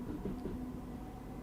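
A daily aggregate freight train from Harlow Mill on the Bishops Stortford to Broxbourne route in Train Simulator 2021 rumbles steadily and low for a moment, with a faint tonal hum over the rolling noise and no voices.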